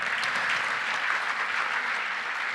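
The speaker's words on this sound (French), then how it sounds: "Christophe Périllat, on peut l'applaudir" Dense, steady applause from a gala audience welcoming Valeo chief executive Christophe Périllat to a round-table evening, sustained evenly throughout with no talk over it.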